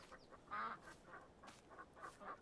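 Ducks in the Farming Simulator 22 farming game give a run of soft, rhythmic quacks, about half a dozen evenly spaced calls heard faintly at a distance, with no talking over them.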